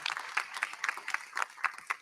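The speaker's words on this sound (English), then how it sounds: "Let's go ahead and give everybody a round of applause." Audience applause closing a conference session at a meet-and-greet event, a brief steady patter of many hands clapping at moderate distance, fairly quiet and unbroken.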